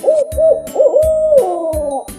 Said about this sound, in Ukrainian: І раптом квітка побачила, як на галявину прилетіла сова.